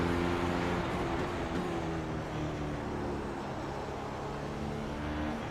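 A racing car engine at full throttle in the iRacing sim holds a steady, loud, high-revving drone with a continuous harmonic whine throughout, no talk over it.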